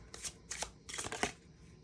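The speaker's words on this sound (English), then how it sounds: "Yeah, of course I had to shuffle." Tarot oracle cards being shuffled in several quick riffling bursts, close and crisp, with brief pauses between them.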